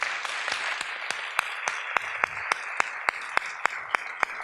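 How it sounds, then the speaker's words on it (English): Audience applause for Pablo Iglesias at a talk, a soft wash of clapping with a series of sharp, regularly spaced claps standing out close by. "Please give him a round of applause."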